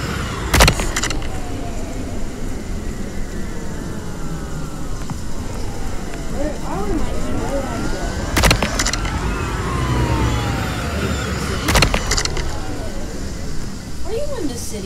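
Car engine in the Roblox Jailbreak video game, a steady game-engine drone running under overlapping talk, with several sharp transient bursts and sweeping tonal whines.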